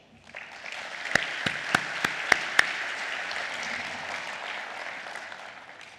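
An audience at an opening ceremony bursts into sustained applause, a dense even wash of clapping with a few sharp louder claps standing out early on before it gradually thins.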